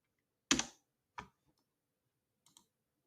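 A few sparse key clicks from typing on a computer keyboard, close and crisp in a quiet room: one sharp tap, another a moment later, then two faint taps near the end.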